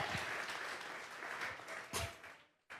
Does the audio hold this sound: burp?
no